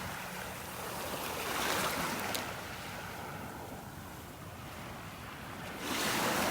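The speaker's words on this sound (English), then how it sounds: "As the waves come in, they start spreading everything out, pulling it back into the water." Ocean surf washing onto a beach in North Naples, Florida, a steady broadband wash of breaking waves with wind noise on the microphone, swelling louder near the start and again at the end.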